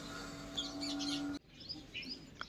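Sparrows chirp in quick, bright bursts against a steady background hum that suddenly cuts out midway, after which the chirps continue a little more faintly.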